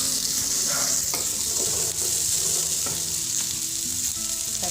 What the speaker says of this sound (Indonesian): Masukkan cabai hijau, tumis sampai cabai hijau matang.